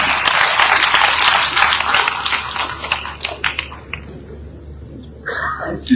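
Applause from an audience at a youth leadership event starts full and loud, breaks into scattered individual claps, then swells briefly again at the end.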